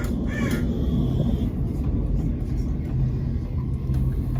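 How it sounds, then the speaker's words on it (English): Raven caws at a wax museum, a few harsh calls near the start over a steady low rumble with faint background murmur. "we have a little raven right here just chatting just away"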